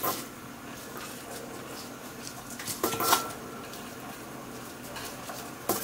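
Dishes and utensils clink and scrape as a seasoned scallop salad is plated into a serving dish, with soft close clattering taps and a few sharper knocks over a quiet kitchen background.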